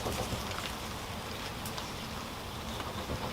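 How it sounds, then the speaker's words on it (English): Light rain falls outdoors in a garden setting, a steady, soft hiss of drops close by with occasional brighter patters, continuous and even throughout with no talking. "It has started to rain a bit."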